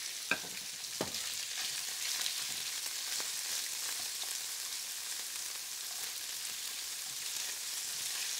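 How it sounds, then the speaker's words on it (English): Turkey breast browning in a little oil in a skillet, a steady close hiss of sizzling with a few faint utensil taps and stirring at the start, no talk. "I'm just going to brown it. I have a little bit of oil in my skillet"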